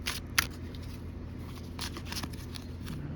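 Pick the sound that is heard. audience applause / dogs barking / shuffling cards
shuffling cards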